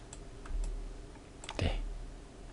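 Computer keyboard and mouse clicks while drawing in Illustrator, a few sparse, close taps and clicks over a low background hum.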